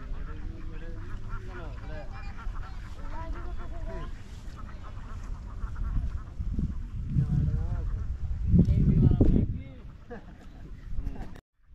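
Ducks quacking on the Jharkata river in rural Jamalpur, Bangladesh, with a fishing boat nearby, repeated honking calls that grow louder toward the end, mixed with people talking.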